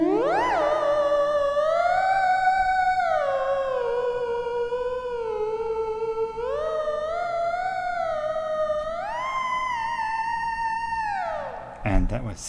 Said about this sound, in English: we also have a theremin mode that we call free pitch mode, and that sounds like this